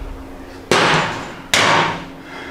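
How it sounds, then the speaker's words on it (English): A wrench and 36 mm socket break loose the wheel axle nut on a Harley-Davidson, producing two sharp, loud metallic bangs about a second apart, each ringing out briefly, with no speech. "We can get a big crescent wrench on here. Basically, you just want to hold one side, 36 millimeter socket on the other side,"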